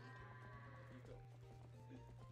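Quiet goat bleats from the video game Zelda: Twilight Princess, a few wavering calls over a low steady game hum.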